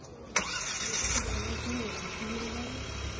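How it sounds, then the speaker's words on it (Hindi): Kia Sonet engine starting by remote key, heard as a brief sharp start at about a third of a second, then a steady idle hum with a faint high whine throughout. "अगर हम इसको होल्ड करके रखेंगे गाड़ी स्टार्ट हो जाएगी अपना दो ब्लिंक के बाद"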